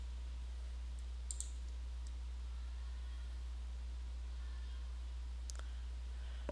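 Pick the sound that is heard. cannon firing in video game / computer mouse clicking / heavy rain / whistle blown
computer mouse clicking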